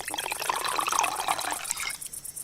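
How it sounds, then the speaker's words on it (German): Water from a carried supply being poured into a bowl in 40-degree heat, a steady close splashing trickle that fills about two seconds and then tails off. "Ich habe mir Wasser mitgebracht. Und einen Teil davon fülle ich jetzt in diese Schale."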